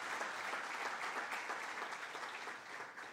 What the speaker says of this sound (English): he deserves a round of applause.